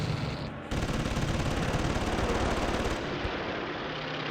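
Aircraft machine gun strafing in a Battle of Britain video game, a loud continuous rattling burst of rapid fire after a short pause, sustained to the end over engine drone.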